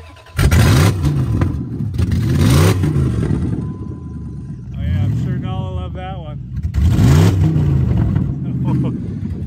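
A loud Dodge 1500 truck engine with its exhaust fallen off revs repeatedly, rising and falling in harsh unmuffled bursts close by, with a squealing whine in between and voices under the noise.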